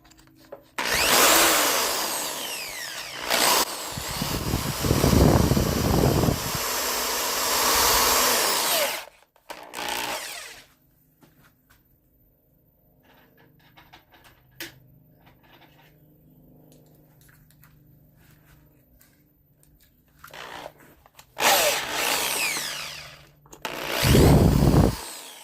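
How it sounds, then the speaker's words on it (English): A power drill whines loudly while drilling out the holes of a 220v AC outlet, in bursts near the start and again near the end, with a quieter stretch of low handling noise between. "I'll just drill the holes out"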